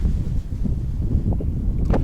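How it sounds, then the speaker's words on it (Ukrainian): Strong winter wind with snow buffets the microphone in low, rumbling gusts, steady and close throughout, while spinning for pike in February. "Вітер, сніг, дує."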